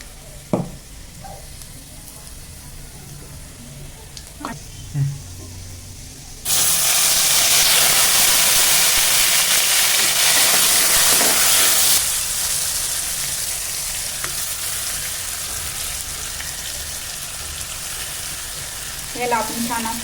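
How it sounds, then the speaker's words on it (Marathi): Chopped garlic and cumin hit hot oil in a wok and burst into a loud, broad frying hiss that holds for several seconds and then settles to a steadier sizzle, after a few quiet utensil taps at the start. "कापलेला लसूण थोडासा छान फ्राय द्यायचा, त्याने टेस्ट येते, छान टेस्ट येते भाजीला।"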